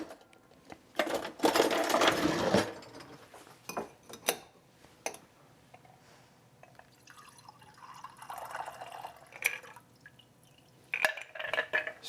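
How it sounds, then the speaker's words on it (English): A Baby Takes a Nap cocktail being strained into a glass, with a loud burst of liquid pouring and splashing early, then scattered drips, clinks and a second trickling pour, close and without talk. "strain into our glass"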